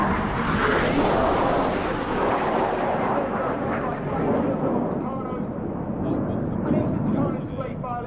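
Jet aircraft of an aerobatic display team flying in formation at the Midlands Air Festival, a loud continuous roar that stays steady and slowly shifts as the formation banks, heard over a commentator's voice.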